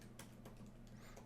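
Typing on a computer keyboard at a desk, a quick run of light key clicks over a steady low electrical hum, close and fairly quiet.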